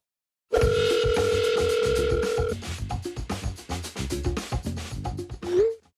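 A telephone rings loudly in a steady electronic tone for about two seconds, then gives way to a busy jingle of electronic tones that stops abruptly.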